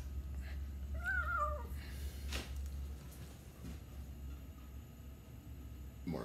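A cat gives a single rising-and-falling meow early on, fairly close, over a steady low background hum, with a few faint knocks and rustles afterward.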